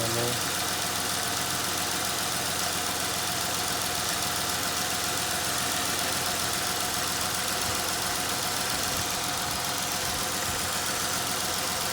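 Car engine idling steadily after a lightweight Unorthodox Racing crank pulley and throttle body were installed, a continuous close mechanical hum with a voice speaking briefly over it.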